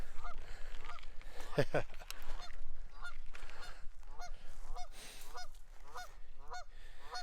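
Canada geese honk repeatedly in a steady series of loud, nasal calls, close by, over outdoor background noise with a brief louder burst early on.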